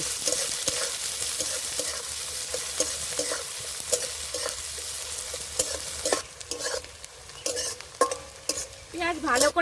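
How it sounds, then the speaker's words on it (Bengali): Chopped onions fry in a pan with cumin seeds, a continuous close sizzle broken by frequent scraping and clattering stirs that grow louder and busier toward the end, no voices. "পেঁয়াজ কুচি পেঁয়াজটা ভালো করে ভেজে নেব"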